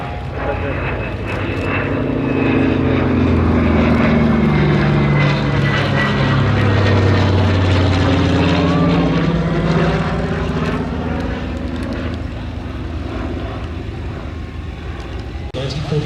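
A Yak-3 propeller fighter flying a display at the Shuttleworth Festival of Flight, its piston engine droning loudly and steadily as it passes close by, the pitch sweeping as it goes.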